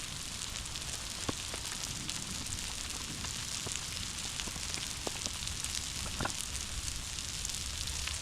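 Hash browns frying on a Blackstone griddle, a steady, even crackling sizzle like light rain that holds at a constant level throughout, with occasional brief pops and no voices.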